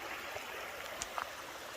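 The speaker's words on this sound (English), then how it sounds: "some good water flow today" A trail stream on Humpback Mountain, Virginia, gives a soft, steady wash of flowing water heard from a little distance, with a couple of faint, brief knocks or ticks and no talking.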